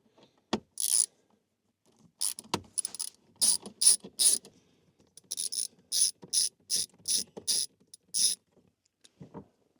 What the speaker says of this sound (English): I've got me a little Torx bit. So I'm going to pull this cover off right here.